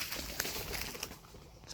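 Small birds coo and call at Stânca Costești, with soft repeated calls and faint chirps over a quiet outdoor background, moderately distant.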